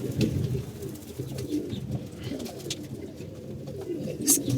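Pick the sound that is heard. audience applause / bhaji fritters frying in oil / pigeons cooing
pigeons cooing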